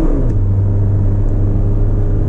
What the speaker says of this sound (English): There's the engine revving.